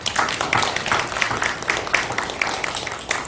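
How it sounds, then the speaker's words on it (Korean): A church congregation clapping together during a Sunday afternoon worship service, a steady rhythmic patter of many hands at a moderate distance with no speech. "우리 박수 한번 쳐줍시다"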